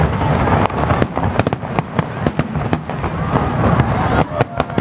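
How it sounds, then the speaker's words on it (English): Fireworks at the 53rd Target International fireworks show: loud, dense, rapid bangs and crackling bursts following one another for several seconds. "Then the real fireworks."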